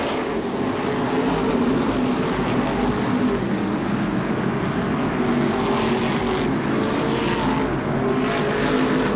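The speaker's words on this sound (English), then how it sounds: "Side-by-side racing for the 5th spot, Jarvis and TC." Modified race cars roar around Seekonk Speedway during a True Value Modified Series race, a dense, continuous engine drone with rising and falling pitch as the cars run side by side, loud and steady throughout.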